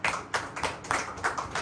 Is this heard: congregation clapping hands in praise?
yes